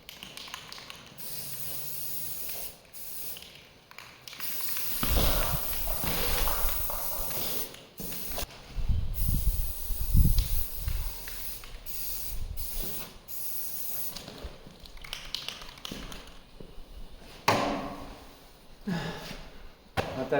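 Aerosol spray paint hissing from a can onto a Dirtworx bumper in a series of long, loud, close sprays, broken by short pauses and a few taps and clicks of the can.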